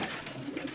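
Rampuri Teddy pigeons cooing, a short, soft burst of low cooing over a steady background hiss.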